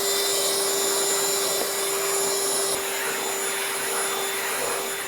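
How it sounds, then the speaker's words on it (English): A random orbital sander with 80 grit paper sands hardwood flooring on a mudroom bench seat, close up near boxes and a wall, giving a loud, steady whirring drone that runs without pause. "80 grit on the random orbital and get tighter to the boxes and the wall."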